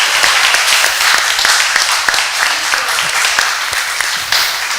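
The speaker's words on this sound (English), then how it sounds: "we can give a round of applause for Prabhu" Audience applause at a Sunday Feast gathering, a dense steady wash of many hands clapping continuously at close range for the whole stretch.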